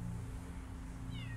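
A cat meows once in the Copycat video game, a short rising-falling call near the end over a steady low background hum, with no talk.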